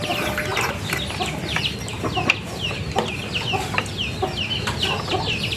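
Chickens cluck and chatter continuously nearby, several birds calling in overlapping short bursts over a steady outdoor background.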